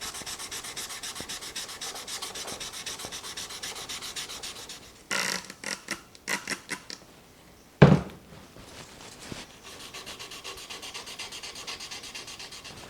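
Sandpaper rubbed by hand over a metal Stanley 19-400 miter vise, fine-grit strokes making a steady rasping hiss, broken midway by several short separate scrubs and a sharp knock before the continuous rubbing resumes, close and alone.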